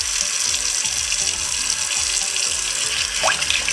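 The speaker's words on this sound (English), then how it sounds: "I've placed it in this pot. It's a medium pot. You don't want a pot that's too small or else it will overflow. And I'm gonna fill it with water." Tap water pours steadily into a medium cooking pot to cover smoked herring, a loud continuous splashing rush close by with no voices.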